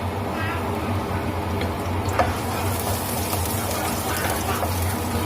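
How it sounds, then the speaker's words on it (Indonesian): Bean sprouts stir-fried with garlic in a pan, a steady close sizzle and hiss with scraping stirs running throughout, no voices over it. "Sekarang saya mau numis toge ya teman-teman. Bumbunya cuma bawang putih"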